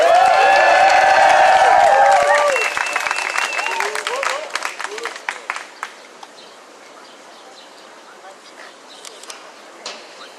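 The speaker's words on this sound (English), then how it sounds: "Can y'all clap it up for Kendra, y'all?" Outdoor crowd at an abolition march in a New York park clapping and cheering loudly with high whoops at first, the applause thinning into scattered claps as it fades.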